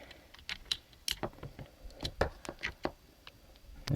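Keys pressed repeatedly on a Ducky ONE mechanical keyboard, including the Caps Lock key, as a series of sharp, close clicks at an uneven rhythm in a quiet room.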